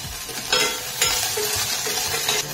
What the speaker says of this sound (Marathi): आता हे सगळे आपले खडे मसाले घालते मी, ते चांगले परतून घेते।